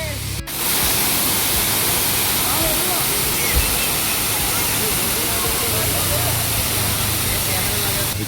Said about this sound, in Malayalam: മഴയൊക്കെ ഉള്ളതുകൊണ്ട് അടിപൊളി വെള്ളച്ചാട്ടമാണ്.